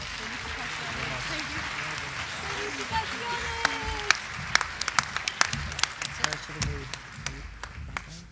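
Applause for new inductees at a Cherokee High School world languages honor society ceremony builds from murmuring and voices into scattered, sharper claps near the microphone, growing denser toward the end.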